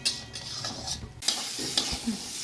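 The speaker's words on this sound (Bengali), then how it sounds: "মশলা ধোয়া থালাটার জলটাও আমি দিয়ে দেবো, দিয়ে একটু তেল ছাড়া পর্যন্ত কষিয়ে নেবো" Spice paste stir-fried in oil in a pan while making gandharaj dhoka with curry leaves and kakrol, with scraping stirs and soft sizzling, close and moderately loud.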